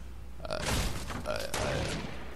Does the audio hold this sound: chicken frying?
no